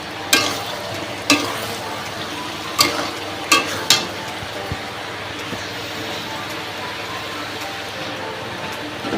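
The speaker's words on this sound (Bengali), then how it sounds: "আলু পেঁয়াজ ভাজা হয়ে গেছিলো বলে মশলাটা দিয়ে দিলাম।" Spices hit fried potatoes and onions in a pan, sizzling steadily while a spatula stirs with several sharp metallic clinks and scrapes, mostly in the first half.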